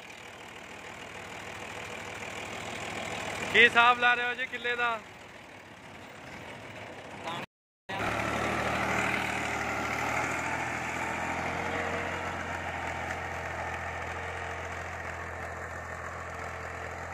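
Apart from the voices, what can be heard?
New Holland 480 tractor engine idling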